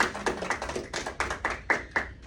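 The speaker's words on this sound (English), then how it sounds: "give yourself a hand clap for completing. Clap up for yourselves" A small group claps in uneven bursts, sharp hand claps rising and falling over a couple of seconds, fairly close, at a middle school award ceremony.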